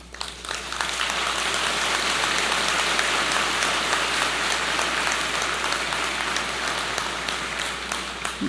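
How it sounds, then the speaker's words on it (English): Audience applause fills a graduation and award ceremony at a business school spring convocation, a steady dense wash of clapping from a large crowd lasting throughout, fairly loud and even with no speech over it. "And let's give them a heartfelt applause."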